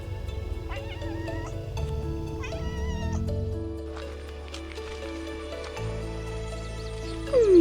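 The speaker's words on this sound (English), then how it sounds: "there's a cat here on the road." A cat meows repeatedly on a road on the Greek island of Milos, with several high, wavering cries over steady outdoor background noise, close to the listener.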